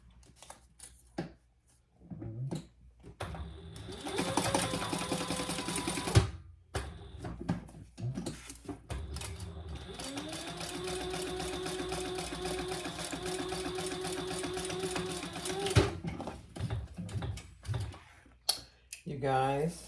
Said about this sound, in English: Then you just need to top stitch this side